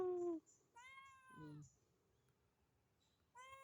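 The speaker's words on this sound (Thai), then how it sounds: "แมว" A cat meows up close, three drawn-out calls separated by quiet pauses, with faint background noise between them.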